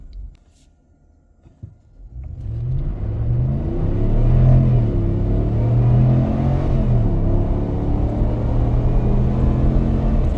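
A Ram 1500 pickup truck fitted with a Green high-performance air filter launches hard from near quiet in a 0 to 60 run, its engine rising loudly into a sustained roar with climbing revs and gear changes, heard from the cabin.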